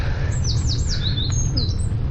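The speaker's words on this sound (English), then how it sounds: "birds." Birds chirp and squawk in several short, high calls during a bicycle tour in the Somme countryside of France, over a steady low rumble.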